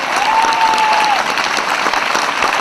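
Loud, dense applause rises from an audience at a Hindi poetry reading by Kavi Dinesh Raghuvanshi, sustained and close, with a brief tonal whistle-like sound early on.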